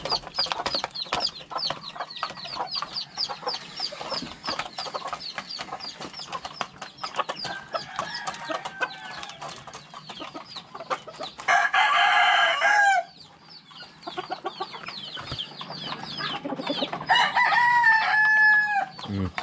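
Chickens cluck busily at feeding time on a farm, with chicks cheeping among them, while a rooster crows loudly twice and the birds chatter steadily throughout, close by and without speech.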